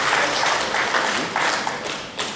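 An audience applauds with dense, continuous clapping that swells in waves and holds strong for the whole short stretch.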